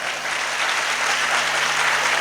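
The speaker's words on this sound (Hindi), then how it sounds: "उन तक पहुंच जाएगी आपकी तालियां। अभी आप लोग धीरे धीरे बजा रहे हैं," An audience at a religious ceremony and sermon in Ghatol claps slowly and steadily, a continuous wash of many hands applauding close and loud without a break.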